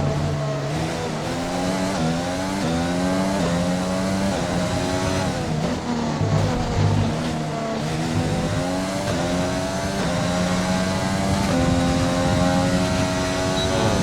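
A Formula 1 race car engine in the F1 2020 video game, at the Netherlands round, howls continuously at high revs, rising and falling through gear changes and corners, loud and steady with no talking.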